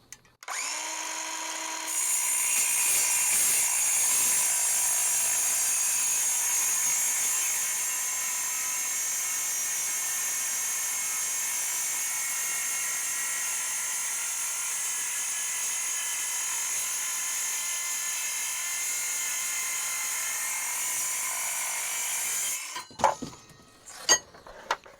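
A DeWalt metal-cutting circular saw spins up to a loud, high whine and shrieks steadily through a long cut in aluminum, then winds down and stops with a few clatters at the end.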